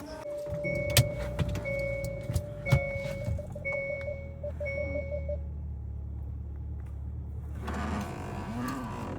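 A car backs slowly out of a tight spot while a reversing alert beeps in a steady repeating pattern over a low engine idle, with a couple of sharp knocks before the beeping stops and a louder rush of noise follows.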